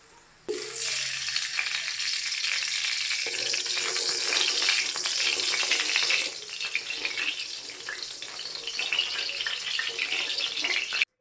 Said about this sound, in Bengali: সবজিগুলো এবার একটু ভেজে নিই হালকা করে